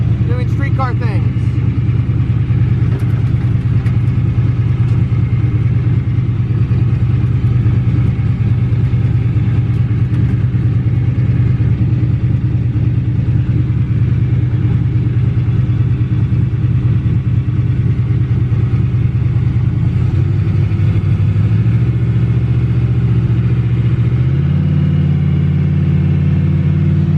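A street-driven race car cruises along the road, its loud low engine rumble steady and close, with gear shifts stepping the drone near the end; a voice talks over it.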